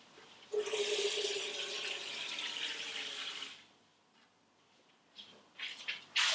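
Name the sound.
water poured into Tupperware Micro Vap reservoir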